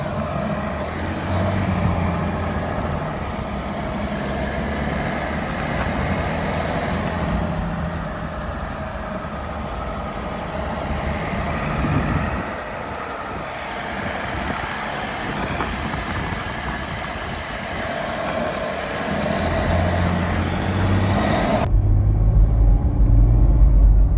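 An INEOS Grenadier driving, a steady low engine and road rumble from inside the cabin, continuous and moderately loud, rising slightly toward the end, with no talking.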